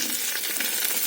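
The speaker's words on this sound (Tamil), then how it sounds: "இப்போ பெரிய வெங்காயத்தை போடுறோம்." Large onions and green chillies frying in oil in a home kitchen cooking lunch, a steady close hiss of sizzling with no pauses, alone and without talk.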